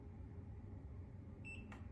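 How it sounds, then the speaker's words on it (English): A faint electronic control box for Tesla healing paddles powers on with a brief high beep and a click, sitting over a quiet, steady room hum. "it's gonna beep at you and turn on"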